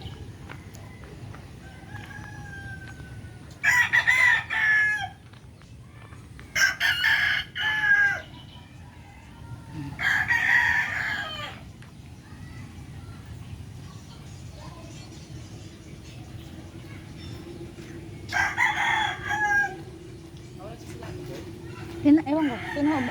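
Chickens and fighting roosters on a mini farm crow loudly several times in turn, long ringing cock-a-doodle-doos spaced through the stretch, with softer clucking and low rumbling background between them.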